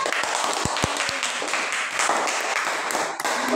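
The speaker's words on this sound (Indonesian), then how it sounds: "Dah, tepuk tangan." A classroom of students claps their hands together in a short, dense burst, with a few sharper taps standing out near the start and faint voices under the clapping.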